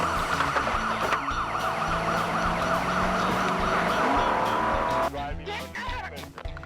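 A police car speeds off with lights on, its siren wailing loudly and steadily over engine and road noise, then the sound cuts and breaks up near the end.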